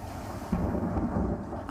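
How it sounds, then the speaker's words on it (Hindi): A storm over Dubai brings a deep, rolling rumble of thunder with heavy rain hissing steadily underneath; the roar swells about a third of the way in and stays loud and continuous to the end. "आसमान में कड़कती बिजली बादलों के गरजने का आगाज कर रही है।"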